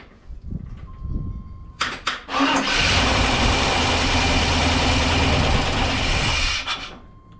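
A 1995 GMC Sierra 2500 with a blown head gasket cranks briefly with a few stuttering turns, then catches and runs steadily at a loud, close idle for several seconds before dropping off; no speech.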